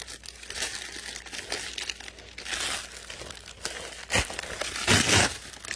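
Crinkling and tearing of a bubble padded Amazon envelope as it is pulled open, with irregular crackly bursts, a louder rip near the end, close and fairly quiet with no talking.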